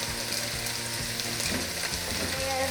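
Minced garlic sizzles and crackles steadily in a pot for a one-pot poblano chicken squash chili, with a close, continuous hiss broken by scraping stirs.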